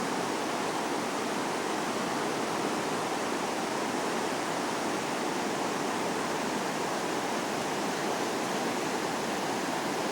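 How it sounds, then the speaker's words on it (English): River water rushes past close by in a loud, unbroken roar of turbulent flow that stays even throughout, with no voices. "it would be nice having a hotel right on this river, listening to this all night"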